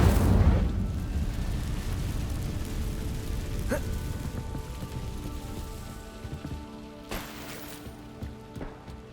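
A fiery blast from the Incendio spell in Hogwarts Legacy: a loud whooshing burst at the start that decays into a long crackling, rain-like hiss, with a couple of sharp flares later.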